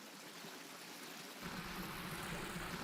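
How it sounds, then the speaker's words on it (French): Water from a well pouring out into open ground in France, a steady rushing flow that swells louder halfway through and continues alone, with no voices. "C'est incroyable de voir autant d'eau s'écouler dans la nature."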